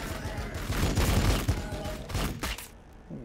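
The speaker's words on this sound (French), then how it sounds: "On va peut-être pouvoir lui caler quelques petits tirs vite fait avant de partir." Gunfire in the Warhammer 40k: Battlesector strategy game comes as a dense, rumbling burst of rapid shots and booms with heavy low end. It is loud and close and tails off after a couple of seconds.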